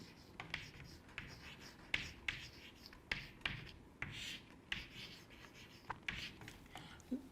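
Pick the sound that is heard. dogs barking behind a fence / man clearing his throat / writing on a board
writing on a board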